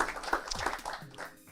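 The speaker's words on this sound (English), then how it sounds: "give Richard and his team a nice round of applause" Audience applause for a presenter and his team at the start of a day-long seminar, a moderate, fairly distant patter of many hands with a faint voice mixed in underneath.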